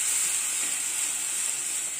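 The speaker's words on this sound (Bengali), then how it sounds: "এই পেস্টটা আমি এখন এর মধ্যে দিয়ে দিলাম। দিয়ে এটাকে আমি কষতে থাকবো যতক্ষণ না এর থেকে তেল ছাড়ছে।" Spice paste fries in hot oil for a Bengali potato curry (alur dom), a continuous bright sizzling hiss, close and fairly loud throughout, with no voices.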